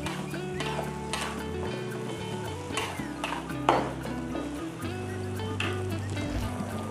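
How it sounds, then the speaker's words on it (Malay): Blended spice paste for a Javanese-style chicken curry sizzles steadily as it is sautéed in a pan, with a spoon scraping and clinking against the pot throughout and no talking. "kita masukkan bahan kisar tadi dan kita tumiskan dia"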